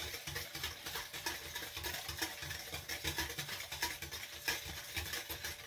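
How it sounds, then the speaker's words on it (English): A spoon stirs spices into a pumpkin pie mixture in a bowl, making a quiet, steady scraping and swishing that repeats in a continuous rhythm, close and soft, with no talking. "Spices mix into the pumpkin mixture."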